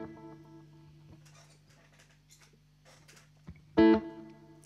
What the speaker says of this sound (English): the 63 spring inside of the Line 6